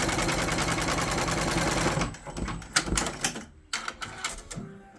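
An embroidery machine stitches a design in a fast, dense, rhythmic rattle for about two seconds, then slows into irregular clacks and short bursts with brief pauses.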